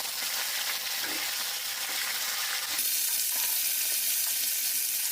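Chicken frying Nepali style in a hot pan over high gas heat, a steady hissing sizzle with stirring, growing louder and brighter partway through as more ingredients hit the oil; no talking.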